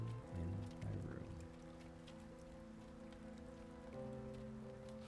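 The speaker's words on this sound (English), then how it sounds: "it's raining inside my room again" Rain falls inside a base room in No Man's Sky, a soft, steady patter under low sustained musical tones and hum, quiet and unbroken.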